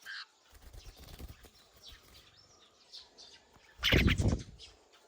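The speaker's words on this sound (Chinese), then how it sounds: "刚那个小八哥也飞到我身上来了。" A young myna bird flaps its wings in short bursts while flying onto a person, with a loud, close flurry near the end and a few soft chirps.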